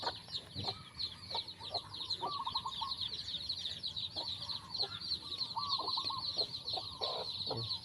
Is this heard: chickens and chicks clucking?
yes